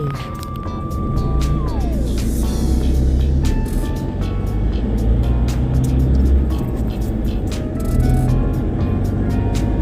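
Cars and trucks queue and creep forward at a newly installed red light at the Ban Non Muang junction in Khon Kaen, with a steady rumble of idling engines, a nearby vehicle moving off, and a brief tonal beep.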